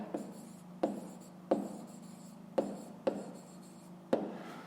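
A pen writes on paper during a fifth-grade math exercise: a run of soft scratching strokes close to the mic, each starting with a small tap, in an uneven rhythm with no talk.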